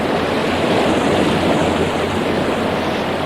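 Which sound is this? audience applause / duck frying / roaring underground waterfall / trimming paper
roaring underground waterfall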